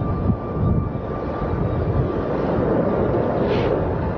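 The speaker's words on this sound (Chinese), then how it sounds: "这个螺旋桨那个喷气从你头上划过的声音" A foley effect of a propeller or jet aircraft passing overhead, heard as a continuous broad roar that holds steady and swells slightly toward the end, with no talk over it.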